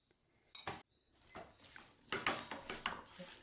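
Beef being mixed with ginger-garlic paste in a pot for a Kerala beef perattu curry: one sharp metallic clank, then a run of quiet spoon scrapes and clinks against the pot.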